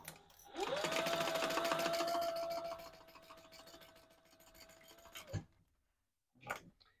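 A sewing machine stitches a seam in one fast continuous run of about five seconds with a brief backstitch, then stops, followed by a short rustle of fabric in a quiet room.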